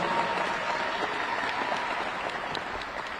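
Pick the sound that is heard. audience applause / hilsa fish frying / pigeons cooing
audience applause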